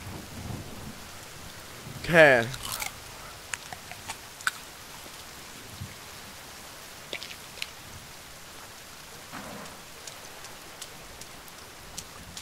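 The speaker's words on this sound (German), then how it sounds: "Langsam kotzt mich der Regen wirklich an." Steady rain falls in the survival video game The Forest, a soft, even hiss with faint scattered drops, broken by one louder rumbling swell early on; a voice speaks briefly.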